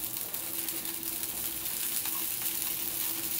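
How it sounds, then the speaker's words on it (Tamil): Rava dosa fries on a pan as oil is poured around its edges, giving a steady close sizzle with a faint hum beneath, fairly quiet and without any voices. "ஸோ இந்த நேரத்தில் நான் எண்ணெய் ஊற்ற ஓரம் எல்லாமே"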